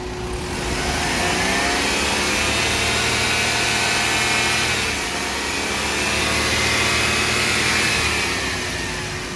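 A 2013 Maruti Alto K10 LXi petrol engine revs steadily at a used-car inspection, holding a loud, even drone that swells and eases twice across the stretch with no talk.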